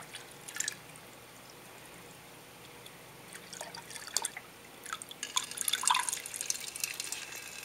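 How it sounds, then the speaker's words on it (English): Water runs out of the spout of a newly set-up fish tank filter, giving scattered drips and splashes that grow busier toward the end. It is fairly quiet and close, with no talking. "So I'm going to add more water until some of it flows out."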